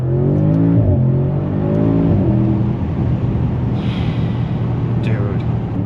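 An Audi S8 sedan engine is run at full throttle, a loud, steady, close roar with a rising rev sweep in the opening seconds that settles into sustained droning, with a person talking over it.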